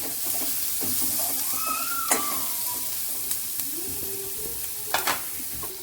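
Chopped onion and two green chillies sautéing in oil, a steady close sizzle with occasional utensil clinks and scrapes against the pan.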